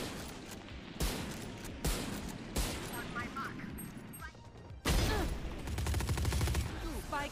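Rapid gunfire bursts in a first-person shooter, several loud sharp volleys spaced a second or so apart, then a heavier sustained burst near the end.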